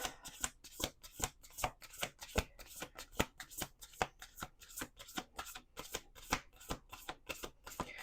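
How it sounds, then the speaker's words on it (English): Playing cards riffle-shuffled repeatedly in a quick, even rhythm, each burst crisp and close, with brief pauses between shuffles and no talking. "2 more shuffles."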